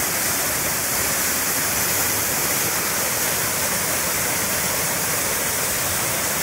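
Channat Waterfall in Mangaon roars continuously nearby, a dense, unbroken rush of falling water with no pauses or voices.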